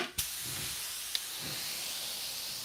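Paint spray gun spraying gold paint over chrome metalflake, a steady close hiss of atomized spray running continuously, marked by a couple of sharp clicks from the trigger.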